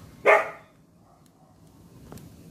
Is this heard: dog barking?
yes